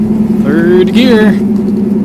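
Porsche 928 with a five-speed manual swap cruises in third gear, a steady close engine drone filling the cabin while a person talks over it.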